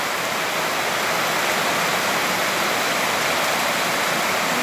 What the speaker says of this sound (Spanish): está lloviendo todo va para arriba